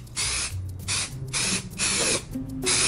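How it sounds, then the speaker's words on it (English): Several pressurized bursts of mold release hiss from an aerosol can in short, evenly spaced blasts, close and fairly loud, with brief pauses between them. "no, we gotta spray mold release first. We are using mold release."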